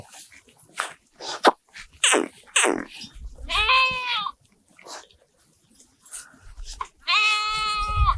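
Two drawn-out, wavering sheep bleats, the second longer and louder, with scattered short animal sounds and shuffling between them.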